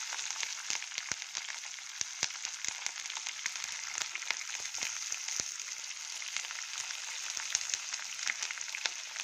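Green chillies and curry leaves frying in a pan, a steady bright sizzle with scattered sharp crackles and pops, close and continuous with no talk.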